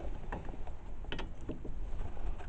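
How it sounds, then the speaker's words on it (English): Ratchet with a 13mm deep well socket tightening knuckle bolts during a Chevrolet Malibu front wheel bearing repair: quiet, quick clicking bursts of the pawl in short strokes, faint against a low background hum. "a deep well 13mm socket and a ratchet"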